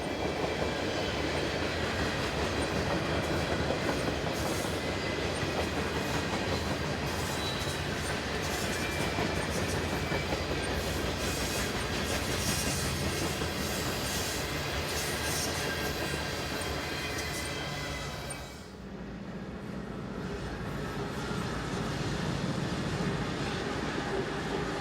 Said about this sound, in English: Three ES40DC locos and an ES44AH head east through Harpers Ferry Station,